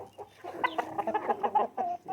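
Hens and a rooster on a farm cluck in a busy run of short, close calls, with a brief pause before the clucking resumes.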